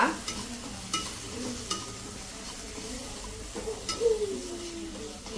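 Banana mixture cooking in a pan, stirred with a spoon that scrapes and taps at irregular intervals over a low continuous sizzle, with a few brief clinks close by.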